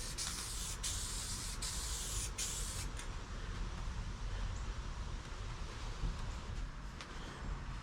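Aerosol spray paint hisses in steady bursts as coats go onto 1992 Buick Roadmaster dashboard parts, loud and close. The first few seconds carry sharp pulsed sprays, then a continuous hiss.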